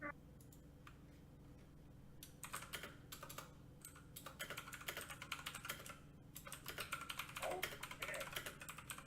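Rapid clicking of a computer keyboard being typed on during a Civilization V game session, irregular bursts of keystrokes at moderate distance over a steady low hum, with faint talk in the background.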